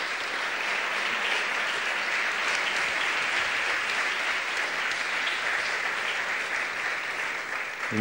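Film-presentation audience applauding, with continuous, even clapping from a sizeable crowd that stays full and steady for the whole stretch without letting up.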